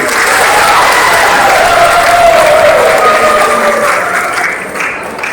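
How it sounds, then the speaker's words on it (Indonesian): Sustained applause from a school assembly audience at a student orientation opening, steady and fairly loud throughout, with scattered voices and cheering mixed in before it begins to fade near the end. "Aplaus dulu satu kali lagi."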